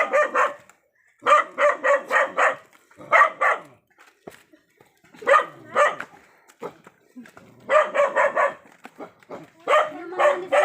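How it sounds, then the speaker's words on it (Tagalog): A dog barks in quick bursts of three or four yaps, pausing between groups, close and fairly loud over a quiet background. "Tingin naman tong asong."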